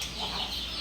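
Young white Kelso gamefowl chicks clucking and peeping, a brief close burst of soft bird calls over low background noise.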